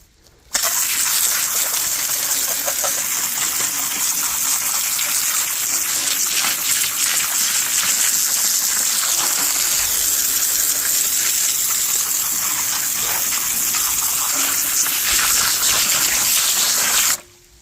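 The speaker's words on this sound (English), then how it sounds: "Or I could just show you as I'm spraying them down," Rocks in Wisconsin are sprayed down with a water hose, giving a loud, continuous hissing gush that holds steady for over fifteen seconds before stopping abruptly.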